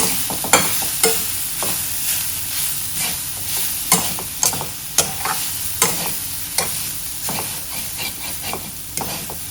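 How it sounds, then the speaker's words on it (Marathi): Slightly moist shredded coconut is sautéed in a pan, giving a continuous gentle sizzle broken by regular scraping strokes of a spoon across the pan. "आता याच्यामध्ये मी खोबरं घालते खोबरंही थोडंसं परतून घेते"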